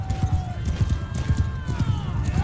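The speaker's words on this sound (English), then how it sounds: "with their horses that do the fancy prance." Rhythmic horse hooves clip-clop steadily at close range in the video game Mount and Blade II: Bannerlord, with faint tonal game sounds and a brief whinny-like tone in the background.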